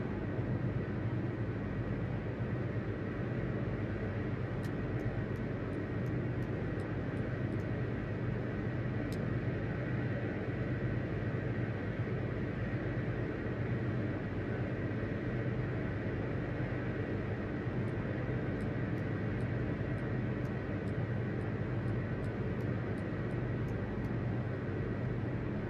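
The engine of a Local Legend 17 plane in MSFS 2020 drones steadily through a climb, a constant low rumbling hum with a few faint clicks on top, sustained and unchanging.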